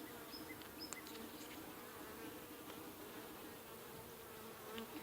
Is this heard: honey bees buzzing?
yes